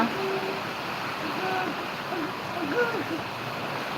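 Steady, dense hiss of heavy rain pouring down, with a few faint voices and tones barely surfacing underneath.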